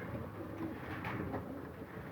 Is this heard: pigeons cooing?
yes